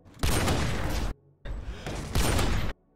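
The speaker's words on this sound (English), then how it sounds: "just listen to the gunshots" Barrett .50 cal sniper rifle shots from Modern Warfare 2: two loud, heavy, booming blasts close together, each with a long, harsh rumbling tail that cuts off sharply, separated by a brief quiet gap.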